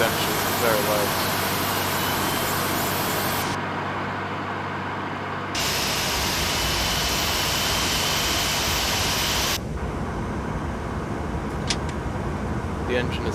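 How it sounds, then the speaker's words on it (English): Airbus A320 jet engine spooling up in a flight simulator, a loud continuous broadband roar and hiss that dips briefly, then swells again and holds steady before fading to a quieter hum. "The engine is started, the EGTs are fine, the engine 2 is fine"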